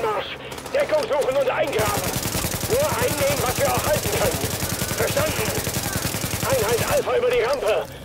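Automatic gunfire in the video game The Division during a Grand Central mission: a long, steady stream of rapid shots for about five seconds, with a voice speaking over it.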